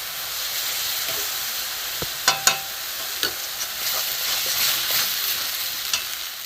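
Onion paste and ginger-garlic paste fry in a pan for a duck egg korma. A soft, steady sizzle runs throughout, broken by a few sharp clinks and scrapes from stirring, and nobody speaks.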